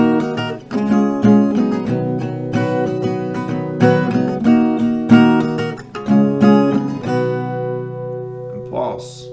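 Acoustic guitar strums the pre-chorus chords of a song in a steady, full rhythm for about nine seconds, then stops on a held pause with a brief soft rustle at the end.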